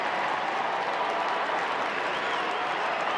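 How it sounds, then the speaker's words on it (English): A crowd at a Class 2A high school state championship football game applauds and cheers, making a steady, dense wash of clapping and crowd noise throughout. "this crowd is very active, very lively today for Class 2A"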